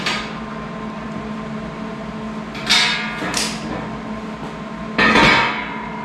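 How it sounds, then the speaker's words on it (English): A welder runs steadily in a workshop, giving a constant mechanical hum broken by a few short, bright metallic bursts and clanks, moderately loud and close, with no talking. "I'm going to shut the welder off so you guys can hear me over the welder"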